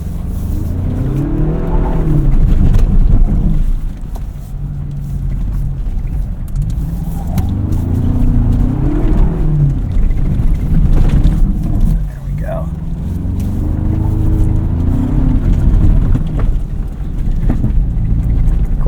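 A 2025 Toyota 4Runner TRD Pro tears along an off-road course, its engine loud and close as it revs and surges through repeated rises and dips in pitch, with tyre and gravel noise underneath.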